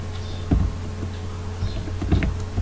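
Keys clacking on a computer keyboard while HTML and CSS code is typed during a web development lesson, a few scattered bursts of keystrokes over a steady low hum.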